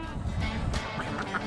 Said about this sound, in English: Lone duck.